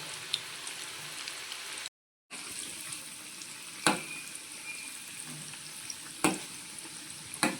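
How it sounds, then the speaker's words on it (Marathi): Spinach pakoda (palak bhaji) deep-frying in oil over low-to-medium heat: a steady, close bubbling sizzle broken by a few sharp pops and one brief silent gap. "पालक भजी आपली तळून घेऊया."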